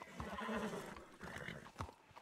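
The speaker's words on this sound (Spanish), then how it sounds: "Sí, este caballo te va a venir muy bien" A horse in a western ranch role-play video game, set around Blackwater, whinnies over a steady clip-clop of hooves, fairly quiet and continuous throughout.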